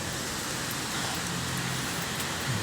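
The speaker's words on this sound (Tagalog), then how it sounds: "Basa tayo sa ulan mga ka-travelers." Steady rain falls during a walk outdoors in the central business district of Birkirkara, Malta, a close, even hiss of drops with faint passing traffic underneath and no talking.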